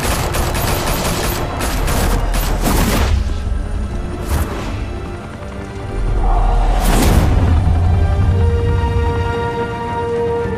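Gunfire in the Telltale Batman video game: dense, loud volleys of shots and booming blasts fill the scene, with a brief lull before another heavy burst.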